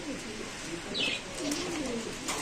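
Pigeons kept for sale at a market stall coo in low, soft bursts, with a brief higher chirp midway, against steady background murmur.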